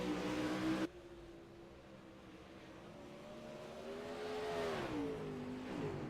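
Race cars in a heat race sound at a distance: a steady engine drone that rises and falls in pitch as the cars accelerate, faint and continuous with no talk.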